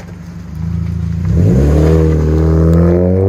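Chevy Cobalt 2.2L four-cylinder fitted with a Vibrant bottle resonator, revving up from a steady idle into a loud, sustained rising drone that holds at high revs, close by with no talk.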